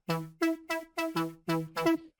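Bright white noise layer on a synthesizer, shaped by an envelope for a future house patch, sounds in seven evenly spaced crisp bursts, each with a sharp attack and quick decay riding over a tonal note, with no voices.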